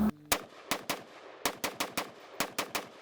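Rapid semi-automatic gunshots from a Springfield Armory Saint Edge rifle ring out in quick bursts, about a dozen sharp reports with brief pauses between groups, loud and close.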